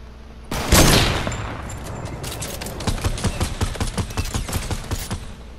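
Gunfire in the video game Fortnite: a loud blast opens, followed by a steady, rapid string of close shots.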